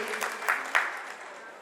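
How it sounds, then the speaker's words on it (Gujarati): Brief burst of audience applause at a community hall event, a dense patter of clapping that swells and fades within a couple of seconds, moderately loud. "તાળીઓના ગણગણાટથી વધારવા વિનંતી."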